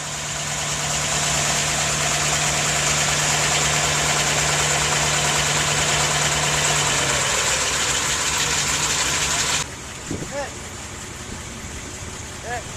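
Classic car engine idling at a harbour gathering of vintage cars, a steady loud mid-pitched rumble that drops away near the end, leaving quieter ambient noise with a few brief sounds.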